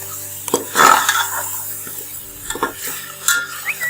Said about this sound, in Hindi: इसे फ्राई कर लो फिर बात करते हैं। चिकन हो गया अच्छे से फ्राई।